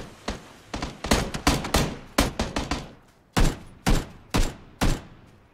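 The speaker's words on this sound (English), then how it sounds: "I had to put some cover fire." Gunfire in PUBG (PlayerUnknown's Battlegrounds): loud, close bursts of rapid shots followed by four evenly spaced heavy single shots, sharp and booming, with no talk over them.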